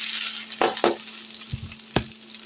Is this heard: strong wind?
no